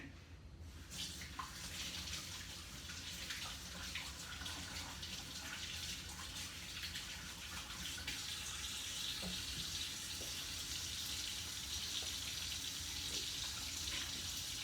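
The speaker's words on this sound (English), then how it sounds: "All we need to do now is wash my hands for a second." A tap runs steadily while hands are washed beneath it in a kitchen before brining a chicken, a soft continuous splash of water at low level with no talking.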